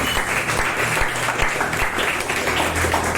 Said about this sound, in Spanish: Démosle fuerte aplauso al Señor